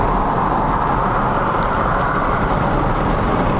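Traffic on a highway, with a loud, unbroken roar of engines and tires as a pack of cars passes close by.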